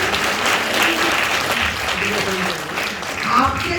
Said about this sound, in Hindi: तालियां जोर से बजाएं